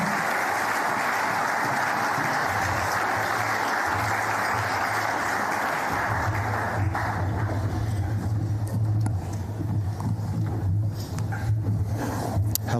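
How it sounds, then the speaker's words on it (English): An audience at the NT Sports Awards ceremony applauds as a presenter walks up. Dense, steady clapping fills the hall continuously and evenly throughout. "shall we give our Administrator a big round of applause as they make their way up?"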